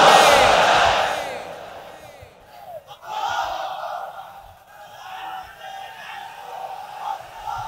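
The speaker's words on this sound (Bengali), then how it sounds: "তাকবীর পড়ুন" Large gathered crowd at an Islamic sermon loudly shouting the takbir Allahu Akbar in unison, an opening roar of many voices that fades, followed by another weaker collective shout and murmuring.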